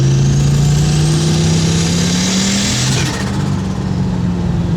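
A Ford Fairmont accelerates hard with its tires spinning, the engine tone rising steadily for about three seconds before dropping slightly and holding, loud and close, with a rushing roar layered over the engine and no speech.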